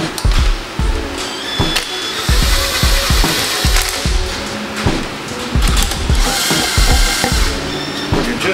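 Torque wrench tightening cylinder head bolts on a 4th-generation Acura TL, loud and close: repeated ratcheting clicks and metallic clatter in an uneven rhythm, with steady mechanical noise throughout.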